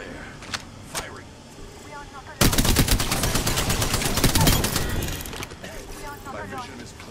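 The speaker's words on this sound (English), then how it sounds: "Firing." Gunfire in Apex Legends, with a few scattered shots and then a sustained rapid automatic burst lasting several seconds, loud and close, tapering off into quieter game noise with voices around it.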